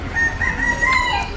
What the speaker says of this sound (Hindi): ये मुर्गी है क्या, मुर्गी है